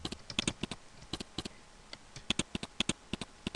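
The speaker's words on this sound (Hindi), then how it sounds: "तो इरेजर के साइज़ को बढ़ाने के लिए हम लोग कीबोर्ड से कंट्रोल प्लस का इस्तेमाल करते हैं।" Keys pressed on a computer keyboard, Ctrl and plus combinations used while drawing in MS Paint: a close, quiet series of crisp clicks arriving in small uneven bursts with short pauses, no talking.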